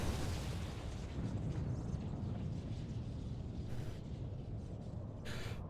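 Ultima Weapon explosion in the video game Final Fantasy XIV: a quiet, sustained low rumbling blast that fades gradually, with faint game effects layered over it.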